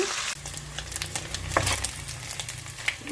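Small dried fish fry in hot oil, a close crackling sizzle broken by stirring scrapes and light spatter, with no voices.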